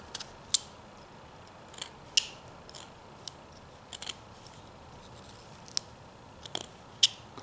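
A knife slices into wood while a small fox is whittled, giving sharp, quiet cutting clicks at irregular intervals over a near-silent background.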